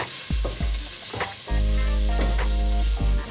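Vegetables frying in oil in a pan for a Moroccan vegetable tagine, with harissa paste going in; a steady, loud sizzle with a few sharp clicks of a utensil, no voices.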